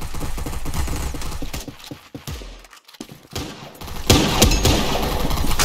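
Gunfire in the shooter game Caliber comes as loud bursts of rapid shots, dropping to a brief lull before a dense, sustained volley resumes near the end.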